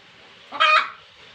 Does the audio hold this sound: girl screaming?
no